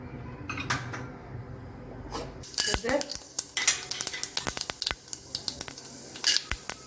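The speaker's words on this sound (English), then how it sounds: "We'll first saute the beans and leave it to boil" Beans sautéing in hot oil in a pan, with a steady sizzle under repeated clinks and scrapes of a metal spoon stirring against cookware, the strokes growing busier and closer toward the end.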